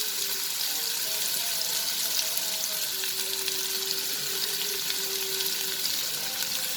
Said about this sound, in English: I will saute this till the onion becomes slightly translucent